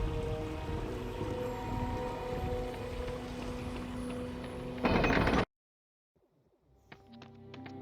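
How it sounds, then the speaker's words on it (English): Steady rain falls in the Harry Potter and the Chamber of Secrets PC game, a dense continuous hiss that swells briefly and then cuts off abruptly, leaving faint quieter sounds. "The rain has stopped."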